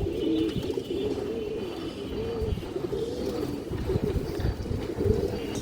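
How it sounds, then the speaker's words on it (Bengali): A female China khaki pigeon coos in low, repeated throaty murmurs close by, steady and continuous against a soft background hum. "খুবই সুন্দর কালারফুল মাদি কবুতর"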